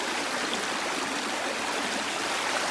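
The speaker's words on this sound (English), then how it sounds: "So this is Red Creek." Red Creek runs along the Kisatchie Loop trail in Louisiana, a steady, full rushing of flowing creek water close by with no voices.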